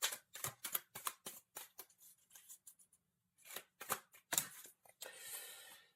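Tarot cards being shuffled by hand: a quick series of crisp riffling snaps and flicks, close and fairly quiet, with short pauses and a soft sliding rustle at the end, no talking.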